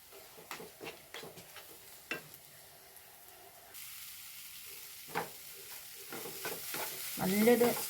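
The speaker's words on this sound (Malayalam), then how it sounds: "ഇതും കൂടെ കൂട്ടിയിട്ട് ഒന്ന് ഇളക്കി കൊടുക്കട്ടെ" Egg bun masala is stirred in a frying pan, with a series of scraping strokes over a soft sizzle that grows louder toward the end; no one speaks.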